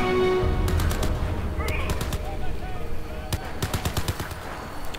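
Turret gunfire in the Crysis 3 video game, heard as rapid bursts of automatic shots over a constant droning game ambience, with clusters of sharp cracks near the start and again toward the end.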